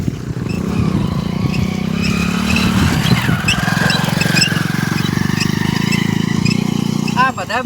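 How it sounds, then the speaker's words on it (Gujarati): Motorcycles carrying pilgrims to a Ramapir temple: a continuous, loud engine drone from bikes riding close by, with faint voices in the background. "આ બધા બાઇક લઈને જાય રે,"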